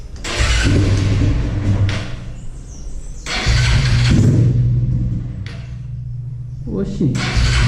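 A car engine fitted with an aluminium exhaust fires up and revs in bursts, loud throaty roars rising and falling with pauses between, close by.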